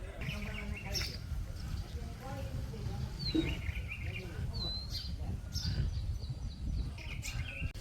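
Several birds chirp and tweet in short, bright calls scattered throughout, mixed with low background murmuring and rustling.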